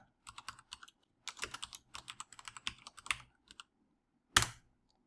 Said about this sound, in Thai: ตรงนี้สามารถที่จะพิมพ์ข้อความได้เองเลยนะครับ